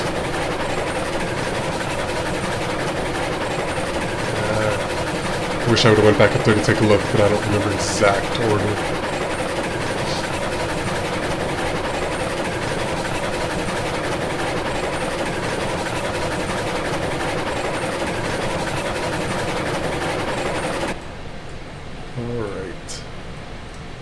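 Small train hauling little lumber cars through Railroads Online, a steady low rumble with clattering wheel and coupling noise, a louder burst of clanks near the middle, then quieter after the sound cuts back near the end, all beneath continuous talking.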